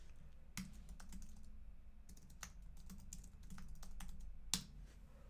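Typing on a computer keyboard while entering shortcuts in Android development work produces sparse, soft, close key taps with a couple of sharper presses over a low steady hum, with no talking.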